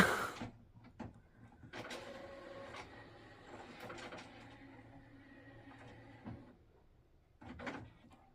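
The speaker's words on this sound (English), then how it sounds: "My printer is doing weird noises." An idle home printer whirs and clunks on its own, with a few seconds of mechanical grinding and rattling between sharp clicks, then a brief final burst, fairly quiet and close.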